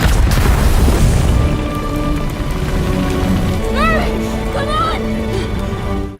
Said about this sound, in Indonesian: bom tadi malah keburu meledak